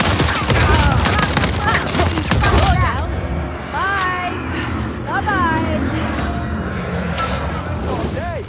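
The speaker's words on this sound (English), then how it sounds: "Laying down suppressive fire." Rapid suppressive gunfire in Uncharted 4: A Thief's End multiplayer, a loud dense burst of shots for the first few seconds, then scattered shots with whooshing game effects and voices talking.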